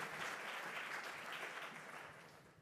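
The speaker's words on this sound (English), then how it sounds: "We give a round of applause, ladies and gentlemen, to wrap up" Audience applause closing a session at an electricity market design conference, a faint, even wash of clapping that fades slightly toward the end.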